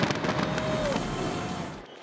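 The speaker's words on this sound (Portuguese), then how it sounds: "os céus da capital Bangkok foram iluminados com fogos de artifício ecológicos feitos a partir de arroz." New Year fireworks bursting over Bangkok, Thailand, made from rice as an eco-friendly display: a dense, continuous crackle and boom of many overlapping blasts, loud and unbroken, with a faint whistle rising through it.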